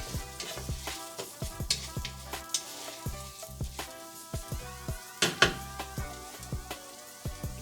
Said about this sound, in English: Then I put in the orzo. Basically want to give this a nice little toasting.